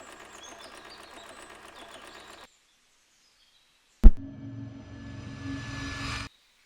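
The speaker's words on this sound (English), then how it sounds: "I'll start by serging the edges with my faux overlock stitch, then follow up with a straight stitch" A sewing machine serges fabric edges with a faux overlock stitch on a toddler bodysuit, running steadily, stopping with a sharp click, then whirring again at a louder level before it cuts off.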